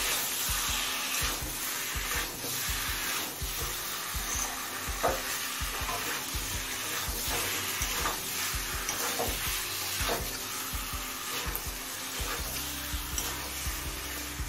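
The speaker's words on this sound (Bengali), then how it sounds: "আলুটা দিয়েও চিকেনের সাথে একটু কষিয়ে নেব" Chicken and fried potatoes for beetroot chicken curry are stir-fried together in a pan: a constant close sizzle broken by regular spatula scrapes, with faint music entering near the end.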